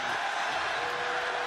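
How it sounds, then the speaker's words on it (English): Arena crowd at a Pride Fighting Championships MMA event reacting to a referee stopping the fight, a steady, dense roar of voices and booing that holds at an even level throughout. "the crowd doesn't like that stoppage"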